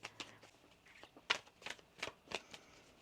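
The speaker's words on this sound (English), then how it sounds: "One more shuffle." Tarot cards are shuffled by hand, a string of soft, quick riffling bursts and papery flutters repeating close by at a fairly low level, with no talking.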